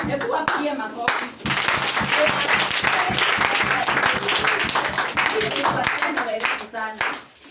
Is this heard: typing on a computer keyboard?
no